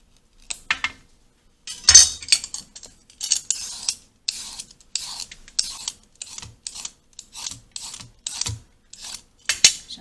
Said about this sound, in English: I am going to peel the carrots and the daikon.